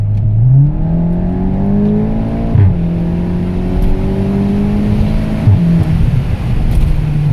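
Inside a Golf 7 GTI TCR, the engine revs hard through rising pulls, with two brief dips where it shifts before climbing again, a loud, continuous cabin drone.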